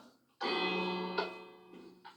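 A bell rings in Minecraft, one clear metallic strike that rings out and slowly fades, followed by a couple of faint softer taps, close and alone.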